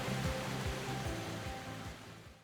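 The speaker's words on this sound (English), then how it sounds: "the sound changes dramatically as you move from the gentle upper cascades to the thunderous main drop" A three-tier waterfall pours steadily from gentle upper cascades into a thunderous main drop, a broad continuous roar with no voices.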